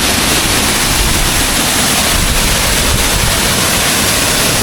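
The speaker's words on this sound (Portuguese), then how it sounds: "E quem tá gostando dessa cachoeira aqui?" A waterfall at the end of a short trail in Pernambuco gives a steady, loud, broadband roar of falling water that fills the whole clip without a break.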